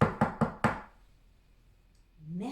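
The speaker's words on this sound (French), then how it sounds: "Quelques minutes plus tard, 3 cigognes frappèrent à la porte." Four sharp knocks on a door in quick, even succession, fairly loud and close, followed by a quiet pause and a faint rising voice-like tone at the end.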